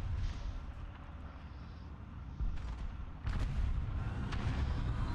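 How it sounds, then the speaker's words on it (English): A missile explodes in the Challenger 3 tank game tech demo. Heavy low booms and rumbling fill the scene, with a sharp blast partway through and another right after that leaves a louder, sustained roar. "That was a missile, no doubt about that."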